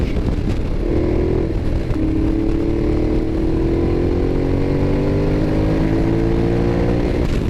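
Ducati Diavel motorcycle pulling hard under acceleration on a backroad, a loud sustained engine roar whose pitch climbs steadily after a brief shift, with wind rush throughout and no voices.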